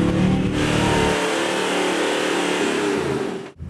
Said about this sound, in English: Watch the engine roar here.